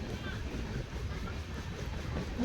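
An Indian passenger train rumbles steadily with a continuous rattling roar throughout, like riding inside a moving carriage.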